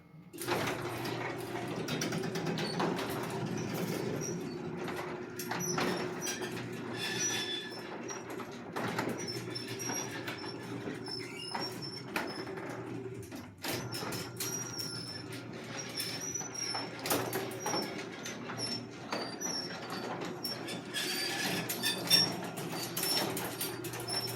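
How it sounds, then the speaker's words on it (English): A garage door fitted with new rollers rolls along its track with a soft, continuous rumbling and faint rattles, fairly quiet throughout with no talking. "here's the door with the new rollers"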